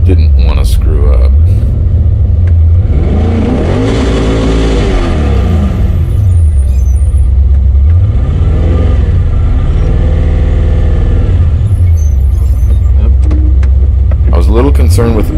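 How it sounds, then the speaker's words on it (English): An LS-powered Porsche 914 at the drag strip roars loud and close through a burnout, with revs rising and falling in repeated surges and a heavy low rumble throughout, someone speaking over it. "A little concerned with the burnout, but it went well."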